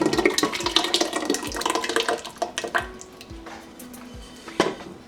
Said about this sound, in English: Now I'm adding this to my meat curry.